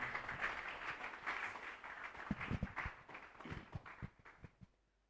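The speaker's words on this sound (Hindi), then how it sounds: "चलिए हम उनके लिए जोरदार ताली बजा दें।" An audience claps for performers after a play at a cultural program, a dense patter of handclaps fading out toward the end, fairly faint and at a distance, with no talk.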